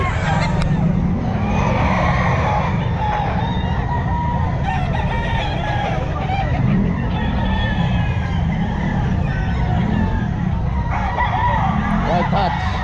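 Bull stag gamecocks at the Bocaue pet market, several crowing and clucking birds close by over a constant busy market hubbub, with passing traffic and background chatter.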